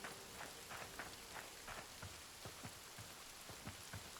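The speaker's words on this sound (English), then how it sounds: "Looks like the rain actually does water your plots." Steady rain falls in the video game Hytale, a dense, even patter with scattered closer drops landing on surfaces.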